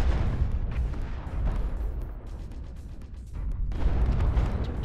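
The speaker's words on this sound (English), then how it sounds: "he's using Gauss cannon. That's what's hitting me." Gauss cannon rounds slamming into a mech in MechWarrior Online, heard as a continuous heavy rumble of booming impacts and battle noise that swells loud, dips briefly, then surges again, with no talking.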